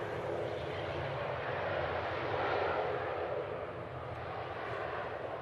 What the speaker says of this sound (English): 2 Dreamliner is entering runway 23 right. 787-8.